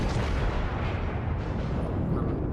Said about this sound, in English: Shots out from the Yamato.